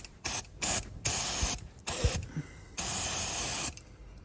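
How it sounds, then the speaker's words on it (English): Brake cleaner hisses from an aerosol can in about six short, close bursts of uneven length, with the last burst running longest. "I'm just going to clean them out with a bit of brake cleaner."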